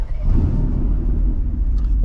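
A Mercedes-AMG GT R fires up from its push-button start, a deep, loud low-frequency rumble that swells and settles into a steady idle close by, with a voice speaking over it.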